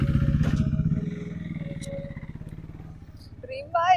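A motorcycle engine idles close by on a street in Chapora, Goa, with a steady low thumping pulse that softens midway, then a few brief higher chirps near the end.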